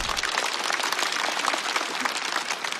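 Dense, steady applause from a stand-up comedy audience for comedian TZ, a broad wash of many hands clapping continuously at full strength without a break.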